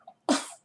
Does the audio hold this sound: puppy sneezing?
yes